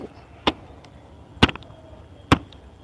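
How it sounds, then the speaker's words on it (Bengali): A stick struck on the ground to shoo away cats: three sharp, hard impacts, spaced about a second apart and close by, with no voice over them. "মাঝে মাঝে লাঠি তুলে মাটিতে মারত"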